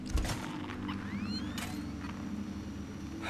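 The alien crawling through the vents in Alien: Isolation: faint, distant metallic clanks, creaks and scrapes over a low ambient hum, with no talk.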